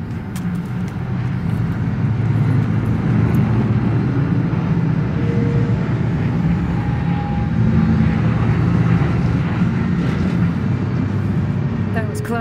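A drone flying overhead during a Cyberpunk 2077 Phantom Liberty mission, a steady engine drone and rumble that holds for several seconds beneath voices talking.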